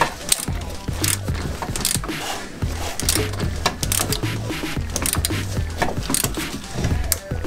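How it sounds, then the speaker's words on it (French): A ratchet clicks in quick bursts while tightening a screw in a Ford Mustang's steering, with short mechanical rattles and knocks between strokes, close and alone. "Et je remets la vis."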